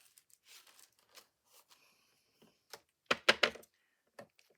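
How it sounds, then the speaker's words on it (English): Soft, intermittent crinkling and rustling of paper being handled nearby during a craft session, with a louder burst of crackling partway through amid otherwise quiet pauses. "If you hear paper in the background"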